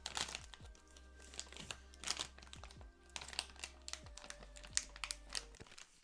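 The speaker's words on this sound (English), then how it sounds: "figuring out how to like open the package" Thick plastic packaging on Chinese New Year snacks being handled and torn open, with close, crinkly rustling and crackles in irregular bursts.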